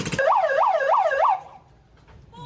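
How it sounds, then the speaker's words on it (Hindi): A cargo boat's departure siren on the Amazon River gives a loud, rising-and-falling wail four times in quick succession, then cuts off into quiet background noise. "ये सायरन सा बजाते हैं कि अब चलने का टाइम हो चुका है"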